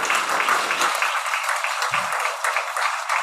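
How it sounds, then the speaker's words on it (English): A school board meeting audience gives a round of applause, a lively continuous clatter of many hands clapping at fairly close range, alone without talk. "So again, just one more round of applause for Mr."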